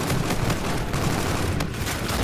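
Dense, loud gunfire in a video game match, shots and bursts overlapping without pause for the whole short stretch.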